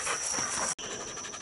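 Several dogs panting during a hog hunt, rapid breathy huffs held steady and fairly close, with a brief dropout partway through.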